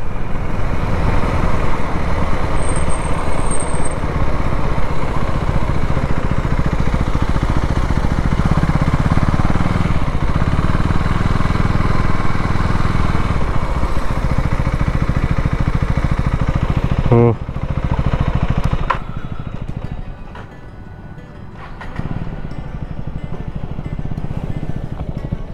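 A KTM Duke 390 Gen3 motorcycle being ridden, its engine and wind roar loud and continuous for most of the stretch, then dropping to a lower, quieter running note near the end.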